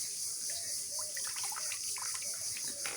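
Running water splashes and trickles as leafy greens are washed for Bengali shager bora fritters, a steady close wash of water with faint handling noises and no speech.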